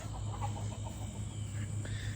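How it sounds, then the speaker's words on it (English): Chickens cluck steadily in a low, continuous murmur, several birds close by with a constant background hum. "I guarantee you these chickens fixing to get wound up."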